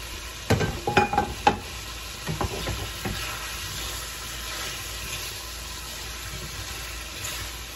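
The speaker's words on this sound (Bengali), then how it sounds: "এখন আমি ভেজে রাখা মাংসগুলি দিয়ে ভালো মতো কষিয়ে নেব।" Pre-fried chicken pieces sautéed and stirred in a pan for a raw papaya chicken dish, with a few sharp scraping stirs early on over a steady low sizzle that continues throughout.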